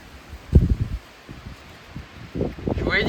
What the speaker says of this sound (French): Regardez comment ça souffle.